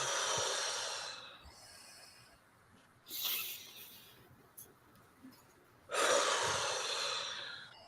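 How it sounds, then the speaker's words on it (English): Deep breaths taken during a meditation, heard close and alone: one long audible exhale, then a second shorter breath, and finally another strong slow breath, with quiet pauses between them. "let's start with the 3 deep breaths as we began this show"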